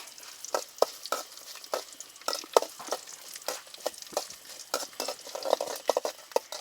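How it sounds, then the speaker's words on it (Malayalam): Urad dal and cashews frying in hot oil after mustard seeds splutter, for Kerala vermicelli upma; a steady sizzle with repeated scraping stirs of a spoon against the pan, close and alone. "അര ടീസ്പൂൺ ഉഴുന്നും രണ്ട് ടേബിൾ സ്പൂണ് അണ്ടിപ്പരിപ്പ് ഇട്ട് കൊടുക്കുക ഇതൊന്ന് മൂത്ത് വരട്ടെ"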